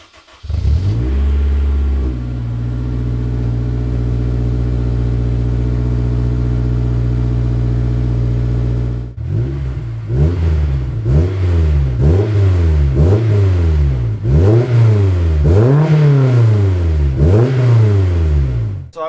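A Honda Accord V6 engine cold-starts and settles into a high, steady idle, then revs repeatedly in sharp rising and falling bursts, loud and close, with no talking.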